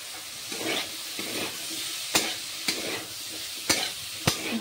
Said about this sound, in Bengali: দিয়ে কড়াইশুঁটিগুলোকে আর একটু ভেজে নেব।